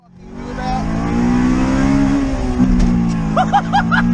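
A Honda VTEC engine revs hard and high, a loud, close, climbing whine that holds near the top of its range, with brief excited voices breaking in near the end.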